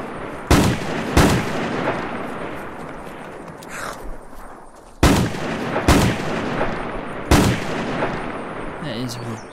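Shell mode on an Unturned video game shotgun: five heavy blasts in two clusters, close and loud, each trailing off in a rolling echo.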